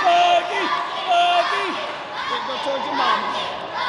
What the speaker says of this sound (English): the fans are cheering on Buggy Wright